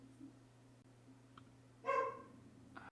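A dog barks indoors after a doorbell rings: one short, faint bark stands out, with a few softer yips around it over a steady low household hum.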